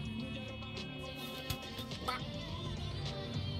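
A bird in the video game Far Cry 6 gives a few quiet, quacking calls over steady game sound, with no one talking.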